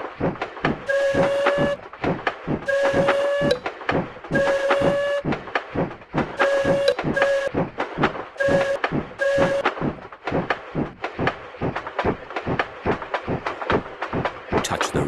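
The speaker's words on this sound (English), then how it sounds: "Touch the green button to make the train go." Train in the Peppa Pig Theme Park mobile game: a steady rhythmic clacking runs throughout while a bright synthetic whistle toots in repeated short bursts over the first ten seconds, then the clatter carries on alone.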